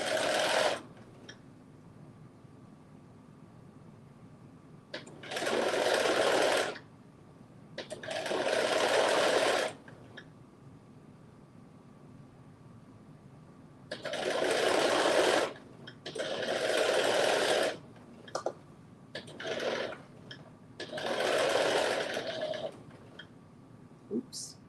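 A sewing machine understitches a facing piece in several bursts of rapid whirring stitching, each lasting a second or two, separated by quieter pauses with a faint hum.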